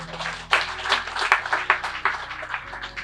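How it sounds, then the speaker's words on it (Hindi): Church congregation clapping for the Lord during a pastor's sermon, a dense burst of hand claps rising from about half a second and continuing steadily to the end, with a low hum beneath. "अभी ताली बजा प्रभु के लिए"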